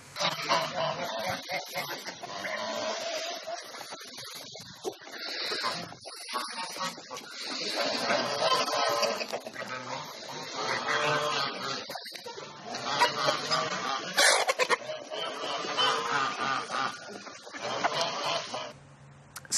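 Chickens cluck and squawk steadily in a dense, continuous racket throughout, with the flock stirred up around a cat.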